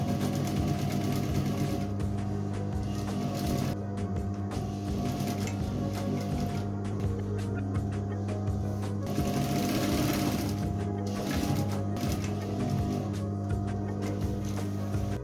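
Sewing machine stitching the top edge of a pants pocket, a steady fast mechanical whir and needle chatter running continuously with brief pauses and slight changes in speed.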